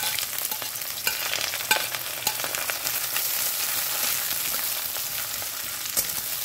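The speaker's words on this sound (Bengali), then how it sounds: "তেলটা যখন গরম হয়ে গেছে এর মধ্যে আমি দিয়ে দেবো একটা মিডিয়াম সাইজের কুচিয়ে রাখা পেঁয়াজ" Chopped medium-sized onion frying in hot oil for raw mango chops, a continuous bright sizzle with occasional stirring clicks, close and steady with no talk.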